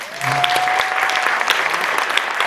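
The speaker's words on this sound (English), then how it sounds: "Let's give him a round of applause." Audience applause at a community awards ceremony, a full crowd clapping steadily throughout, loud and close, with a faint voice and a brief tone rising over it.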